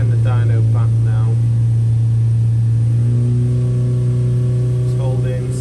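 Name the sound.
930cc engine revving on a dyno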